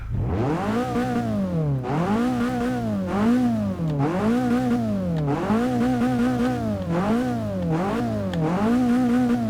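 A 1970 Datsun 510's 1.6-litre L16 single-overhead-cam inline-four in Forza Motorsport 6 revs up and drops back repeatedly in a steady rhythm, loud and close, with no talking.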